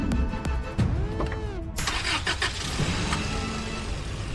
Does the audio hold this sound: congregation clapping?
no